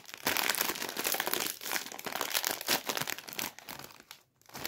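A snack bag from a Joker snacks carton crinkles and tears open up close, a dense burst of crackling plastic lasting several seconds before a brief pause and a final rustle.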